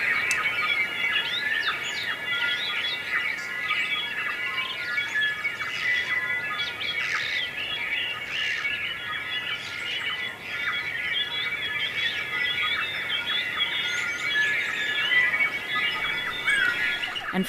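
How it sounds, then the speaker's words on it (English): A dense dawn chorus of native New Zealand birds at Orokonui. Many overlapping chirps, trills and whistles sound steadily throughout, some near and some distant, with no talk. "This is a recording of the dawn chorus at Orokonui."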